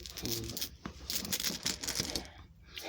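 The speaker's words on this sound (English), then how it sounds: "they always make me put them back in the bag, shuffle, and pull them back" Tarot cards shuffled inside a bag make close, irregular rustling and crinkling with small papery clicks, running continuously at a fairly soft level.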